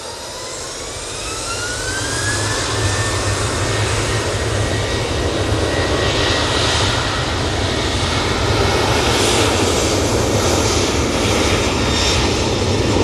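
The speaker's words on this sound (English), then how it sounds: "Singapore Airlines about to touch down" A Singapore Airlines airliner comes in to land at Manchester Airport, a loud jet engine roar swelling over the first seconds and then holding strong, with a rising whine threading through the noise.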